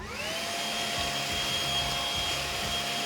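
A cordless battery-powered STIHL leaf blower runs steadily, a smooth high-pitched electric whine with a constant airy rush, close and unbroken.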